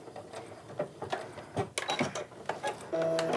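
A sewing machine runs back and forth reinforcing stitches on a fabric tote bag, giving close, uneven mechanical clatter and ticking in short bursts.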